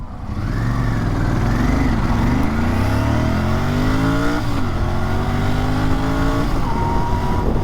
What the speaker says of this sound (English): let me just start the bike and show you